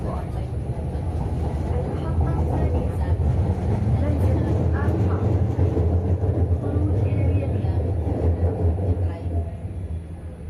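Riding a tram through Education City in Doha, Qatar, with a steady low rumble of the moving car and rail noise. The sound is close and continuous, with faint background sounds over it.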